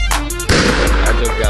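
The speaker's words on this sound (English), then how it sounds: "I just got shot." Gunfire in Apex Legends striking the player, a burst of sharp, loud reports packed into a second and a half of dense game noise.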